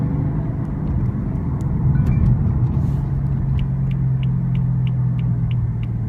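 A 2016 BMW M3 sedan accelerating on a test drive, with a continuous low engine drone and road rumble inside the cabin and a rising tone as it gains speed.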